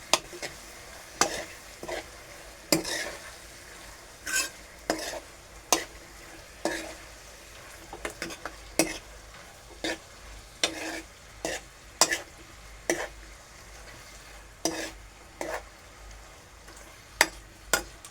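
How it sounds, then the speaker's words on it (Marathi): Vegetable noodles being stirred in a pan, with steady repeated scrapes and clacks of the utensil over a soft, continuous sizzle, close and fairly loud, no talking. "पण ढवळून घेऊया"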